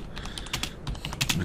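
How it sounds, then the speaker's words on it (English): Rapid, uneven keystrokes clatter on a computer keyboard as someone types a paragraph, close and moderately loud with brief pauses between bursts. "I'm having trouble typing today."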